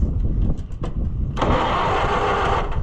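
An old loader's engine is turned over with the key and clutch: a few short cranking bursts, then it catches and runs loudly and roughly up close for over a second before easing off.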